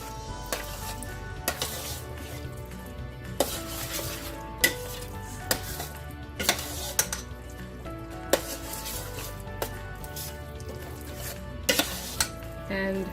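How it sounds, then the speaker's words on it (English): Macaroni and cheese with sausage and mushrooms being stirred in a pot: repeated sharp clinks and scrapes of a utensil against the pot over a steady sizzling bed, with no talking. "Give it a good stir."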